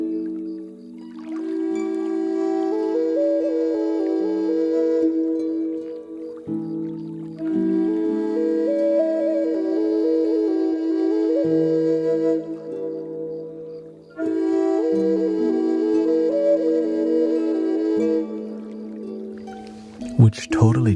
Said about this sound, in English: Which totally drowns out the flute side of the flute.